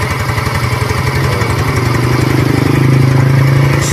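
A Yamaha Mio i 125 motorcycle engine idles after an overhaul, recorded up close as a loud, steady, smooth putter with even pulses throughout.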